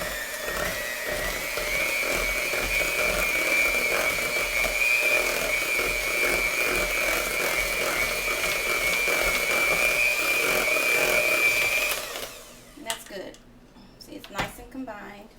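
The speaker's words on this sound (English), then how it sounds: "And then we're just going to mix that just until it's combined." An electric mixer beats cream cheese, sugar and eggs for cheesecake filling, giving a steady, loud motor whine for about twelve seconds before it shuts off, followed by a few quiet knocks and scrapes.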